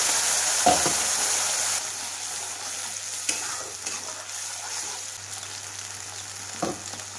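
Ground masala paste fries in hot oil in a kadhai for chicken curry, a steady close sizzle with stirring scrapes and occasional louder clatters of the spoon, no talk.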